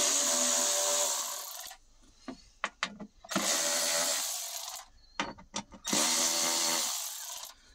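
A cordless power driver with a Torx bit loosening screws on a 2019 or later Sprinter 907 van panel: three loud, close whirring bursts of about two seconds each, separated by short clicks and clunks of handling.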